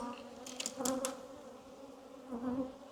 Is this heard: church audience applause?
no